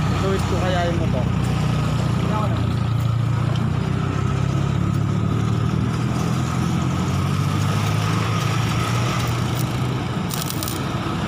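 A Benelli TNT 600i motorcycle fitted with a Two Brothers exhaust runs steadily, a loud, continuous low engine rumble close by with no pauses or revs standing out.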